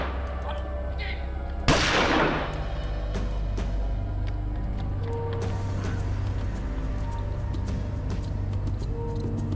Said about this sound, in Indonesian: Karena berusaha kabur, Suud Rusli ditembak kedua kakinya.